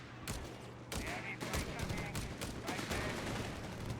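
Machine gun fire in Company of Heroes 3 crackles in dense, overlapping bursts over a constant rumble of battle, loud and continuous, with bursts of other gunfire layered across the whole stretch.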